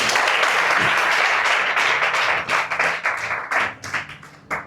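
A church congregation breaks into loud, sustained applause during a Sunday worship service, dense clapping that fills the room and then thins into scattered claps toward the end.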